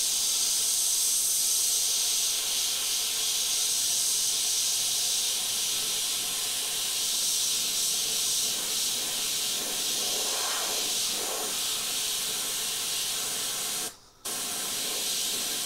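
Spray paint hisses steadily and closely while a Halloween skeleton painting gets a layer of white. The loud, even spray runs almost without a break and cuts out briefly near the end.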